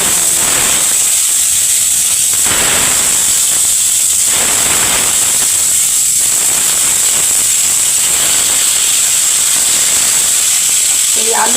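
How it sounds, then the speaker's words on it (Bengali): Pointed gourd (potol) and potato pieces fry in hot oil with a loud, continuous hiss that swells in bursts, close and dense throughout. "এইগুলো এবার ভাজবো, আলু আর পটল।"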